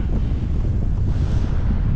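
Strong wind buffets the microphone on the Icelandic coast near the glacier lagoon and Diamond Beach, a loud, continuous low roar and rumble with no break.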